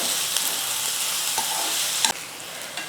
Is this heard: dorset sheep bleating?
no